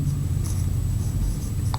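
Marker or chalk writing on a classroom board during a Class 9 chemistry lesson, a soft continuous scratching over low room rumble with a few faint squeaks.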